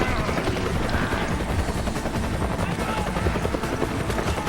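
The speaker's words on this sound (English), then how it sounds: "Shotgun time." Shotgun fire in the video game Resident Evil 5 (Mercenaries mode, playing as Chris in BSAA gear) comes as dense, rapid blasts over a constant loud game din.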